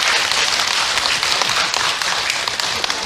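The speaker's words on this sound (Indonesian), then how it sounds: "Tepuk tangan untuk kita semua." Applause from an audience at an Islamic religious talk, a steady dense patter of clapping filling the whole stretch at even volume with no voice over it.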